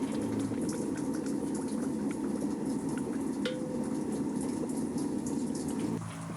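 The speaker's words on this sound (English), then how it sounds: "I'm going to quench it around 1750 to 1800. About 1750. I'll quench it in oil." Hot forged steel knife blade quenched in oil, a steady bubbling, boiling hiss that holds for about six seconds before easing off.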